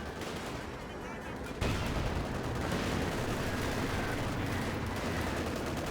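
Dense rifle and small-arms fire crackles without pause in a Company of Heroes 2 battle, the sound jumping louder partway through and holding as a continuous fusillade.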